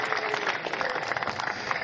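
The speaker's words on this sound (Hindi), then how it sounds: "जोरदार तालियां बजा दीजिए विधायक जी के लिए।" Audience at a Hindi-Urdu poetry gathering, a kavi sammelan, applauds an MLA with steady, dense clapping throughout, fairly loud and close, no talking over it.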